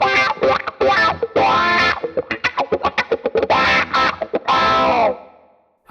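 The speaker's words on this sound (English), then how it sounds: "I get my wah pedal" An electric guitar through a wah pedal swept by an expression pedal, heavily distorted with chorus, played as loud sustained chords and a fast choppy passage with a sweeping vocal-like tone.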